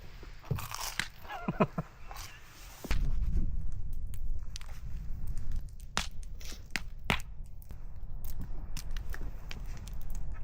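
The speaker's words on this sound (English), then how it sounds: "Listen to that crunch." Crunchy food, sausage with hot honey, is bitten and chewed up close at a snowy winter hot-tent campsite, giving sharp, irregular crunches and crackles against a low steady background.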